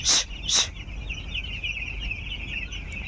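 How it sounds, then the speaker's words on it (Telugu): Chickens and chicks on a farm, among them a small black chick: two short sharp clucks open, then a thin, steady high peeping carries on over soft background noise. "నల్ల కోడి పిల్ల ఉంది."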